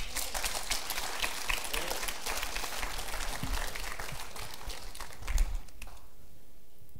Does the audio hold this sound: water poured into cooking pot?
no